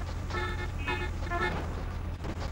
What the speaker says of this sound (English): People were honking their horns like the Los Angeles Dodgers just won the World Series.